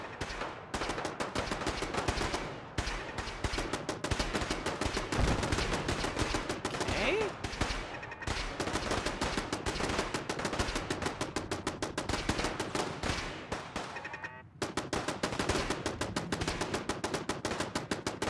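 Sustained exchange of gunfire between raiders and super mutants in Fallout 4, rapid automatic bursts and single shots crackling densely and loudly almost without pause, with a brief lull near the end before the shooting resumes.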